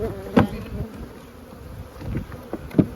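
Buzzing honeybees drone softly throughout at a commercial beekeeping operation, with a few louder passes of bees zipping close to the microphone.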